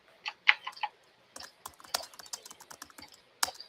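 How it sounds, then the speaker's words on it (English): Typing on a computer keyboard plays back from a recording, with two short bursts of crisp, uneven key clicks separated by a brief pause. Nobody speaks. "And yes, that typing is coming from the video."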